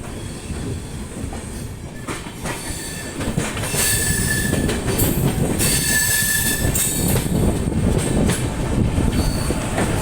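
The Dibrugarh Rajdhani Express runs on rails near Ghaziabad, a loud continuous rumble of wheels on track with repeated high metallic squeals and a faint clickety-clack, with no voices.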